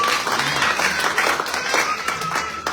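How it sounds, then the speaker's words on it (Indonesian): A church congregation applauds in a sustained wash of clapping for the full few seconds, loud and fairly close, with faint voices mixed in. "Berikan tepuk tangan untuk Tuhan."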